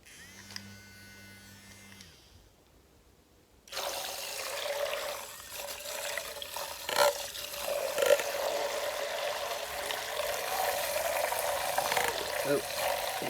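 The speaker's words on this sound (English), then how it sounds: "Now I'm just going to rinse off the brushes." Makeup brushes being rinsed in clear water inside an electric brush cleaner: after a quiet pause, a steady whirring motor with sloshing, trickling water runs continuously, close and moderately loud.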